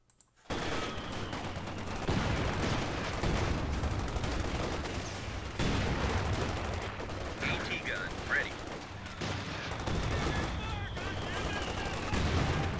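Mortar impacts and sustained gunfire from a Company of Heroes 2 1v1 match on the Crossroads map, US Forces against OKW: dense, continuous battle noise with layered shots and bursts throughout, plus faint voices in the mix.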